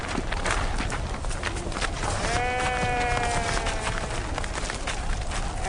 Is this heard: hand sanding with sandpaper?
no